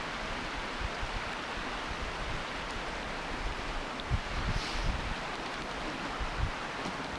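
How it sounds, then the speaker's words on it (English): Wind blows as a steady, soft broadband rush with a few slightly stronger gusts partway through, heard alone at low level with no voices. "The wind."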